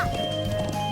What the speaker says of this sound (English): How to ride a horse.